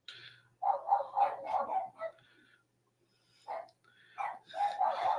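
Dogs bark in short clustered bursts, a yappy run of barks, a pause, then more barks and yips, moderately close and somewhat muffled, with faint breathing between.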